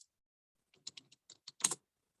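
Quick bursts of keystrokes on a computer keyboard, a handful of clicks in an uneven rhythm ending in a denser flurry, close and fairly quiet with no talking.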